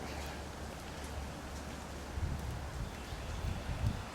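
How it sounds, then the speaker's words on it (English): Steady light rain patters over a low background rumble, a soft, continuous hiss with occasional heavier drops. "A little rainy morning here"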